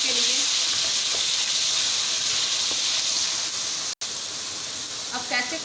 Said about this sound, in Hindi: ये फुल फ्लेम पे तैयार होती है चिकन जलफ्राई। भूनते हैं 2 मिनट के लिए।